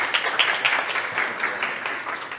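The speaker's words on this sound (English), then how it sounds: "Round of applause, everybody." Brief burst of audience clapping at a health tech startup pitch event, close and fairly loud, with uneven individual claps in a short, steady run.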